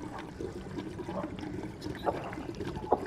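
Water pours and trickles in LittleBigPlanet 3, a soft continuous splashing bed with a couple of brighter splashes near the end, fairly quiet and without talk.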